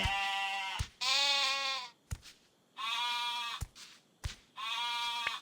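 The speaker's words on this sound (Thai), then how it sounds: "โอ้โหแกะเยอะมาก" Sheep in the video game MiniWorld bleat in three long, wavering calls separated by short gaps and sharp clicks, close and clear with no talking.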